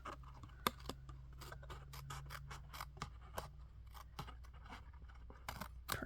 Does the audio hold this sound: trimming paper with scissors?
yes